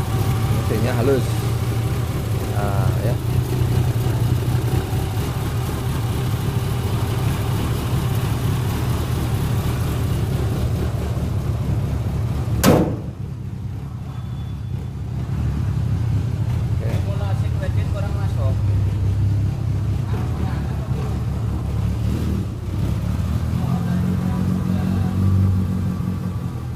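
A 1990 Suzuki Katana engine idles with a smooth, steady low rumble close by for nearly half a minute, with voices occasionally talking over it.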